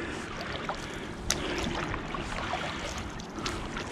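Soft rhythmic swishes and gentle water splashes from a paddle board paddle stroking on one side, close and continuous with faint trickling between strokes.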